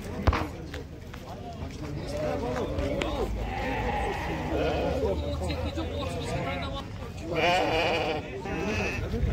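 Sheep and goats bleat at a busy livestock market in Taraz, with repeated calls rising over crowd noise and steady talking throughout.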